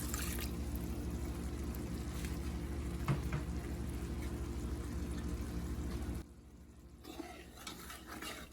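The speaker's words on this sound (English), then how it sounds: "I think I'm gonna add a little bit more water." Water poured into a cooking pot while making shrimp and rice, a soft continuous splash and trickle under faint kitchen clatter, stopping abruptly near the end.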